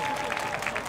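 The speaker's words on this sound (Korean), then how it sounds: "큰 박수 부탁드릴게요" Audience applause at an outdoor youth day festival concert in Korea after a K-pop group's stage, a steady dense wash of clapping with crowd noise throughout the short moment.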